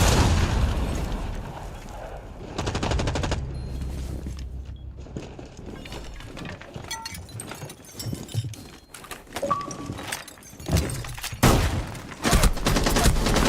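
A detonation in the tactical shooter Rainbow Six Siege erupts as a heavy, booming blast, followed by rolling debris, scattered bursts of gunfire and sharp pops over several seconds, loud and close.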